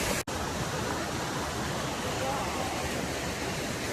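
A waterfall on a trip to Vattavada, running with a reduced flow of water, gives a steady, close, broadband rush of falling water that continues without pause after a brief gap at the start.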